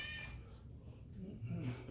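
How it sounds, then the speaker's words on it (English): A male cat meows near the microphone in a home in Costa Rica, one drawn-out call that rises toward the end over a quiet room. "he's going to just keep meowing"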